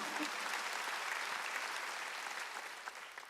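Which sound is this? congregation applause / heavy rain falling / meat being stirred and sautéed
congregation applause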